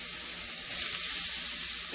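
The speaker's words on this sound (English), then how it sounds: "So we start throwing in our mushrooms para que se hagan saute" Mushrooms sautéing in a pan give off a steady, close sizzle and hiss that holds evenly for the short stretch, with no voice over it.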